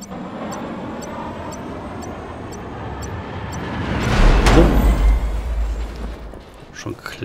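A helicopter in the video game Just Cause 3 roars with a steady engine drone that swells loudly toward the middle, while a faint rapid ticking repeats in the background.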